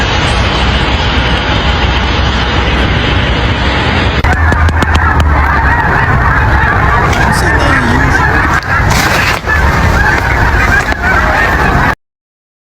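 Honking bird calls, like a flock of geese, over a loud, rushing background noise that continues throughout.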